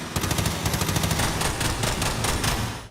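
Rapid bursts of gunfire ring out from the far side of a warehouse, a dense rattling volley of shots lasting a few seconds with no voices.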